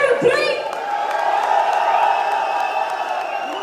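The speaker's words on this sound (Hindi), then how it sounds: "चलिए तालियों के साथ एक बार शोर भी मचा देते हैं" A large audience at a live stage speech event claps and cheers loudly, a dense sustained roar of hands and shouting voices with whoops rising through it.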